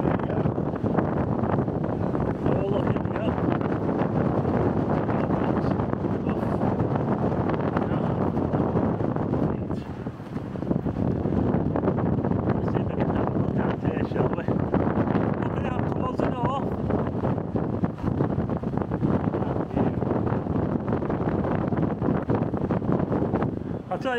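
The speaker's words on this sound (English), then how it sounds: "It's a bit on the breezy side." Strong, gusty wind roars across the microphone at the top of Blackpool Tower. The buffeting is loud and continuous, dips briefly midway, and people talk under it.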